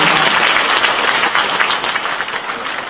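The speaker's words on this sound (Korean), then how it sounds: "여러분 큰 박수로 감사를 표해주시기 바랍니다." At a police veterans' association anniversary ceremony in Seoul's Sejong Center, a large hall audience claps loudly and continuously, dense applause that tapers slightly toward the end.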